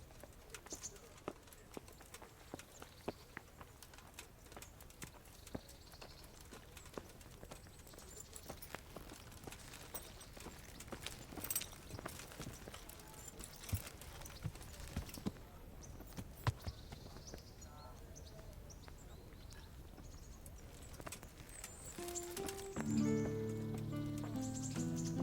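Horse hooves in Kingdom Come: Deliverance, a steady clip-clop of hoofbeats at a trotting rhythm, moderately close over faint ambient birdsong, with some speech and a rising musical tone near the end.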